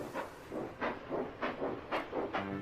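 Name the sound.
steam locomotive puffing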